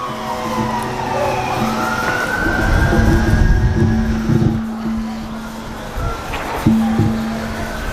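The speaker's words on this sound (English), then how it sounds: "I'll wait for the sirens to go by." Emergency vehicle sirens pass by outdoors near a hollow tree holding a bee swarm, loud wailing tones rising and falling alongside traffic rumble, then fading and briefly returning.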